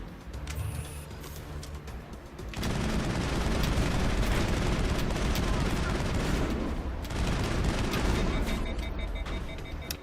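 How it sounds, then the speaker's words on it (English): Sustained assault rifle gunfire in the video game Mass Effect 1: a brief quieter stretch, then a dense, loud, continuous rattle of rapid shots that runs almost unbroken for several seconds. "I need some assault rifle action."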